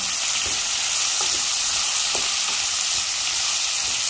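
Onion sautéing in a pan with bay leaf and rice for fresh green pea rice, a steady close sizzle with occasional soft stirring scrapes and clicks, no talking.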